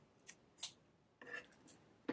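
Scissors snip through a folded strip of the hook side of Velcro, cut for a fly tying tool, making a few quiet, close crisp cuts in two short bursts.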